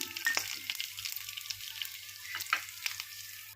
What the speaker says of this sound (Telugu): చట్నీకి ఆయిల్ పెట్టేశాను హీట్ అయింది ఆవాలు జీలకర్ర శనగపప్పు మినపప్పు ఎండుమిర్చి వేస్తున్నాం